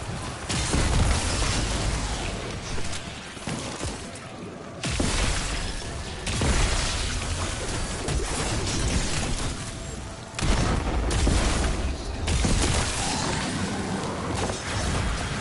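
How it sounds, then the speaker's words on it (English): Huge arc-energy explosions from the shooter game Destiny 2, played as a Hunter, form a loud, dense wall of blasts and crackling bursts with sharp new impacts near the 5, 6 and 10 second marks. "Oh yeah, it explodes. It's a massive arc explosion."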